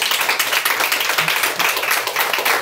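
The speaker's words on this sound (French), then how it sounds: "Moi, je vous applaudis aussi." An audience claps together at a French talk event, a dense, steady patter of many hands filling the space close up, with no voices over it.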